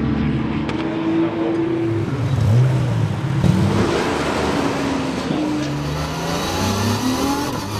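Race cars at the Anneau du Rhin circuit roll through the pit lane, a continuous loud engine drone rising and falling as cars pass close by, with rumble and revs layered together.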